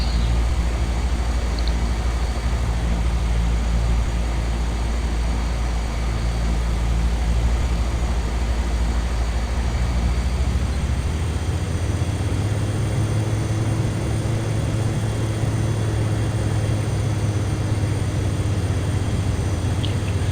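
A Kodiak turboprop in Microsoft Flight Simulator X flares for landing, its engine drone steady and close, then swelling into a deeper, heavier hum as power comes in partway through, with no talk.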